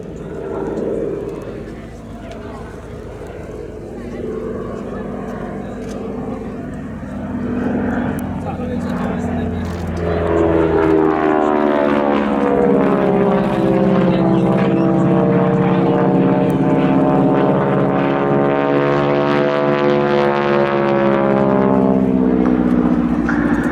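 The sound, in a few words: North American Harvard propeller aircraft flying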